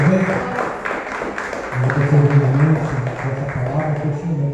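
A church congregation claps during a worship service, a steady patter of hands running under a voice that speaks over it, with background musical tones.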